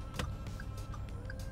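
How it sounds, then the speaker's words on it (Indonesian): A short electronic chime from a Daihatsu Xenia 1.3 R CVT dashboard buzzer beeps a few times inside the car, with soft clicks between the tones and a low steady cabin hum. "Terus di sini ada buzzer."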